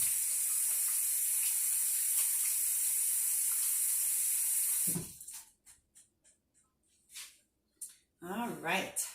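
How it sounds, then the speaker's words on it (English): Kitchen tap water pours in a steady, loud hiss as hands are washed at a sink, running for about five seconds before shutting off abruptly; a voice speaks in short bursts afterward. "Wash my hands."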